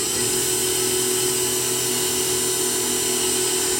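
A Myford Super 7 lathe facing off bar stock held in the chuck, with a constant loud motor whine and a steady metallic cutting hiss running unbroken from start to finish, no voices.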